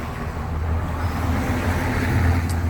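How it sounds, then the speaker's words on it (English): A car passing on a nearby road, a steady low rumble of tires and engine that swells gently toward the end, with no talk over it. "Car coming."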